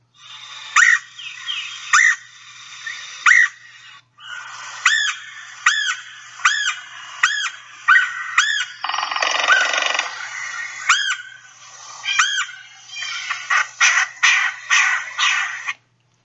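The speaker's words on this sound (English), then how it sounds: "So here are some screams from a red-headed woodpecker." A red-headed woodpecker screams over and over, giving harsh, ringing calls in a loose series and then a quicker burst of shorter notes near the end, loud and close against a quiet background.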